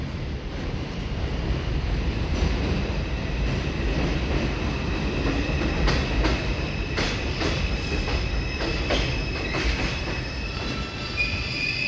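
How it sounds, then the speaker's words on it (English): A train rumbles past close by, heavy rolling wheel noise with metallic squeals and clanks, wind buffeting the microphone throughout. "I was getting ready to really start talking about the train going by"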